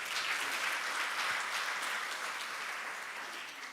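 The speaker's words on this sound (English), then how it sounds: "Can you please give her another round of applause?" Audience at a midwifery, obstetric, neonatal and child health conference applauding after a presentation: steady, dense clapping from a large crowd, even throughout and tapering slightly toward the end, with no voices over it.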